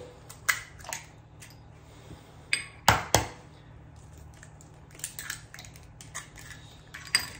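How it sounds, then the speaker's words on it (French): Two whole eggs cracked into a pouring jug in a kitchen: sharp, close taps of shell against the rim, a couple of louder cracks in the middle, with faint clicks and handling noises between them, no talking. "Ensuite, dans le pichet verseur, je vais casser 2 œufs entiers."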